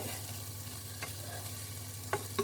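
Soft, steady sizzling of food frying in a pan, with a few light scrapes and taps of a utensil stirring it.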